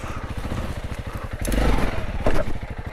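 A Honda CRF300L dirt bike idles with a close, rapid, chugging engine pulse. It then revs harder with a heavy thump and clatter as it bashes over an obstacle.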